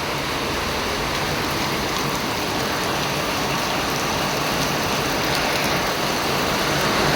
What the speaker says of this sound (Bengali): মুষলধারে বৃষ্টি পড়ছে